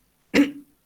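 A voice imitates a child's cough, giving one short, close, harsh cough with a brief voiced tail.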